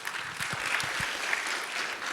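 Audience clapping together in a room, a steady dense patter of hands at moderate distance, lasting a couple of seconds without let-up.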